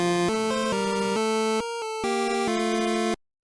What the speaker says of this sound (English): 2 square waves for melody and accompaniment, both of which have 4 duty cycles, and they sound like this.